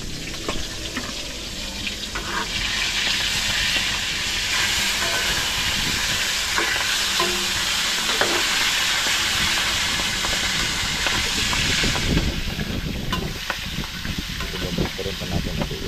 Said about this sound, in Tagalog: ito ay nagluluto naman po tayo para po sa aming almusal